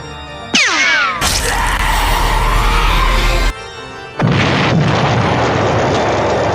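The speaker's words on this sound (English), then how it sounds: "He exploded." A vampire explodes after being stabbed in the heart, heard as a sudden whooshing burst followed by a long, loud roaring blast that cuts off, then another noisy rushing eruption.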